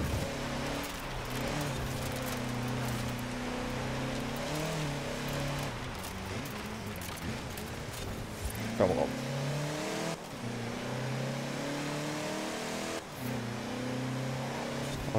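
A Mercedes X-Class pickup driving in Forza Horizon 4, its engine droning steadily with shifting revs throughout, with brief tyre noise, while someone talks over it.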